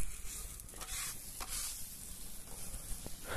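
Two eggs stirred and tossed with shredded parotta on a hot griddle, a steady sizzle with scraping and clinking bursts from the stirring, fairly quiet and unbroken by talk.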